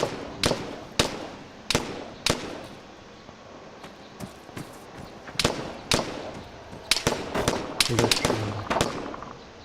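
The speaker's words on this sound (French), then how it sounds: "Ok, ça tire là-bas." Gunfire in the Arma 3 military game, sharp single shots cracking out at irregular intervals, some close and loud, others fainter and more distant, with brief bursts clustering toward the end.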